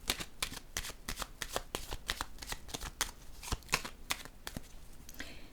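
Playing cards being laid down and riffle-shuffled at close range, a fast run of crisp snapping clicks and flutters with no voices.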